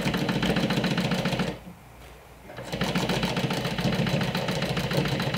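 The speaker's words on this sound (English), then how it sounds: "this is where we're gonna start sewing the binding" A sewing machine stitches binding onto a makeup bag, its rapid even needle chatter running close and loud, stopping briefly in the middle, then starting again.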